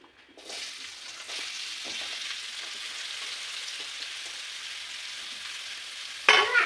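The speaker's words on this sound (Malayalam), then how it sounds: "ഇനി നമുക്ക് ഉള്ളി വഴട്ടാം" Onions sauté in oil in a home kitchen as a steady, close hiss and sizzle runs without a break for several seconds, then a short louder clatter near the end, with no voices.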